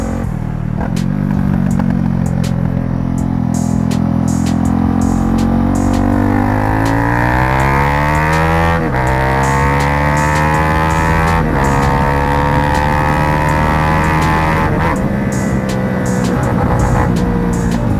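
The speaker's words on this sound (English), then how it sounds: "Another thing with this exhaust is people will hear you." A Honda CB300R motorcycle engine roars steadily while riding, its exhaust note rising and falling with gear changes and throttle, loud and close throughout.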